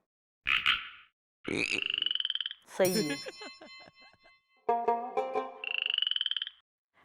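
A man imitates a frog's croak with his voice in several short, throaty bursts separated by pauses, each loud, close and ringing. A brief spoken remark comes in between them.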